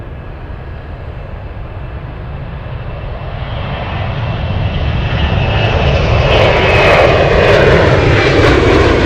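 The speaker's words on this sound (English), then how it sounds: "F-22s." A loud, sustained aircraft roar at an Anchorage airport, swelling steadily as the F-22 fighter jets draw nearer, with a rising whine over a dense rumble and no talking.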